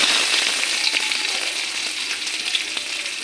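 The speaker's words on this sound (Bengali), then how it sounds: "পেঁয়াজ কুচি কুচি করে কেটে রেখে ওটো দিয়ে দেবো" Chopped onion fries in hot oil with a bay leaf and whole cumin, giving a close, steady crackling sizzle with small pops throughout and no voices.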